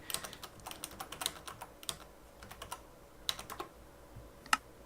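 Computer keyboard typing during a game demonstration, light irregular key clicks in quick bursts with short pauses, quiet and close, with no voices.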